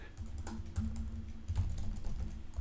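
Typing on a computer keyboard to enter a flashcard answer in Anki, a quick run of close, crisp key clicks with no talking.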